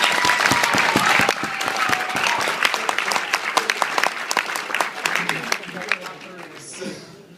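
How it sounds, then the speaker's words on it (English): Wedding guests at a best man's speech break into loud, sustained applause, a dense wash of many hands clapping close by with voices mixed in, thinning out near the end. "So let's give them a round of applause."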